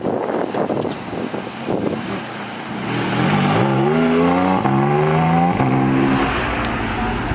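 A Porsche GT3 engine revs up hard and climbs rapidly through several gear changes, pitch rising and dropping with each shift, loud and close with wind noise.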